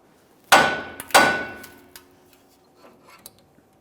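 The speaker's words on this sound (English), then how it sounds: "you could use a hammer and just cause some light vibration here" Hammer blows against a steel steering knuckle to break a tie rod end free on a 1999-2006 Chevrolet Silverado: two sharp ringing metallic strikes close together, then a few lighter taps and clinks fading out.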